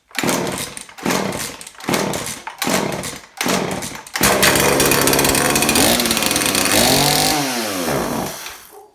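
A Husqvarna 235 chainsaw with its choke pulled out gets several sharp pull-start cranks in a row, then fires and runs loud and close. Its two-stroke engine revs up and down unevenly before dropping away.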